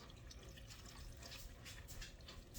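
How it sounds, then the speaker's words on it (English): Hot water poured from a container onto powder in a cup or bowl, a faint continuous splashing gurgle lasting a couple of seconds, close and quiet, with no voices. "And then I got 2 cups of hot water that I'm going to throw in here, just like that."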